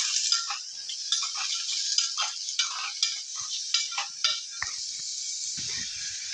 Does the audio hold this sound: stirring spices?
yes